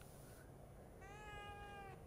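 A cat in The Evil Within 2 meows once in a clear, drawn-out, wavering call over a steady game background hum.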